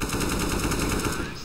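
An automatic rifle sprays a rapid, continuous burst of gunfire in CS:GO, loud and dense for over a second before tapering off.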